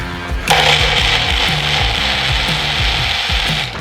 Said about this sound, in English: Now I'm going to get this onto the blender and we'll see how it tastes.